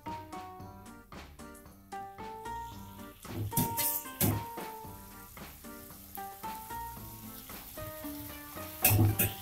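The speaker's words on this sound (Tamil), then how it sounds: "இது கூட நம்ம இந்த மஷ்ரூம் ஆட் பண்ணிக்கலாம்." Sliced mushrooms sizzling in a spiced kurma masala as they are stirred, with continuous frying crackle broken by repeated clanks and scrapes of a spoon against the pan, close and fairly loud.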